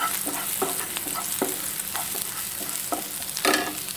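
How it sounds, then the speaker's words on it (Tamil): Mushrooms sauté in a pan for soup, a steady close frying hiss broken by short scraping strokes of a spoon stirring every half second or so. "லைட்டாக வதக்கிக்கோங்க எல்லாத்தையும்."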